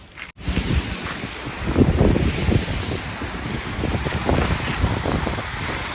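Sea waves wash onto a small beach in Finland while gusty wind buffets the microphone, a loud rumbling, surging roar with irregular pulses of surf and no voices.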